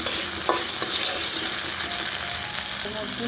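Eggs fry in an oiled pan with a dense, even sizzle and crackle. A couple of faint utensil taps sound close by, and no speech is heard.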